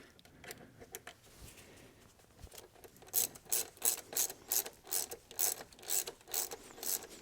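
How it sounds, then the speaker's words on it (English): A hand ratchet tightens the fuel pressure regulator bolt on a GM Ecotec 2.2L engine in a Chevrolet Cavalier. About ten rhythmic, close rasping clicks come in steady back-and-forth strokes after a few quieter scrapes and taps. "And then just grab a regular ratchet first."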